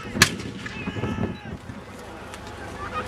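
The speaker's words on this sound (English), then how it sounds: "The second gun fires." A cannon fires at a 17th-century battle reenactment, one sharp, loud boom just after the start that fades into a rumble, with voices and crowd noise continuing underneath.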